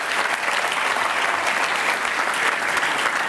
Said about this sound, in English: could you please give a very, very big round of applause to our very game